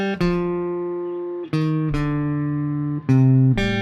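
An electric or acoustic guitar plucks a Star Wars phrase with a swing feel, four clear ringing notes in a long-short pattern, each sustained and decaying, played close and alone.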